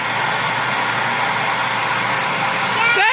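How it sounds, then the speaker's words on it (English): A child runs a vacuum cleaner under a table indoors, its steady loud whir droning continuously and close, with a brief shift in pitch at the very end. "Go vacuum by your yellow chair."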